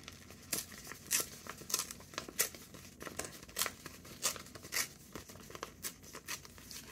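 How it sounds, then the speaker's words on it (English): Paper ripped by hand for a vintage grungy junk journal booklet, a series of short, crisp tearing and crinkling bursts in an irregular rhythm, close and fairly quiet, with no talking. "Try to make it a messy rip."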